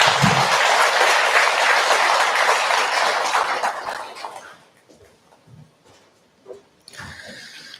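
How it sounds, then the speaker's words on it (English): A large indoor audience at a spiritual talk in Seattle gives loud, sustained applause welcoming a speaker, which fades out after about four seconds, leaving quiet room sounds and a few soft bumps. "Please welcome him with your applause."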